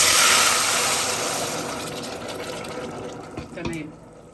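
Water poured into a pan of browned frying onions, a loud hiss and sizzle that fades gradually, with a brief voice near the end.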